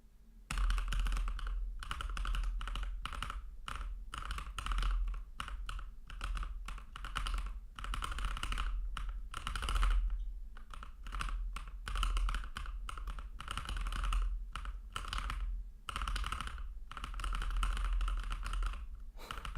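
Rapid clicky typing on a mechanical keyboard with Cherry MX Blue switches, close and steady with brief pauses between bursts over about twenty seconds.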